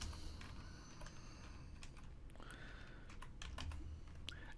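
Typing code on a computer keyboard produces a steady patter of light key clicks, close and quiet, with a few sharper taps toward the end and no talking.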